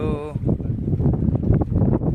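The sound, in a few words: boat crossing the Ganges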